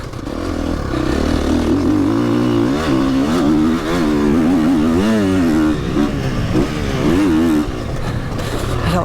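A motocross motorcycle revving on a track, its engine rising and falling continuously with loud, close throttle swells and gear changes throughout.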